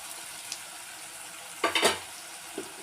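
Snake gourd and grated coconut are stirred in a pan over a low, steady sizzle, with one cluster of louder scraping strokes near the middle and a faint tap at the end.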